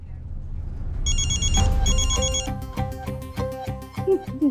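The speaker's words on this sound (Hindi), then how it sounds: "आ गया फोन।" A telephone rings with a bright electronic ringtone, repeating in bursts, loud and close, with thumping background sounds beneath.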